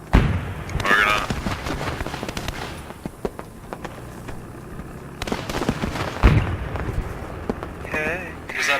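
Heavy booms and blasts of a German tank firing in the World War II video game Post Scriptum sound amid scattered battlefield explosions, with a few loud impacts standing out as people talk over the noise.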